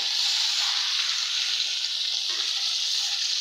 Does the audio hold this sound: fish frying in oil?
yes